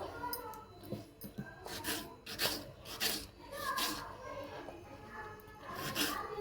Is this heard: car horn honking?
no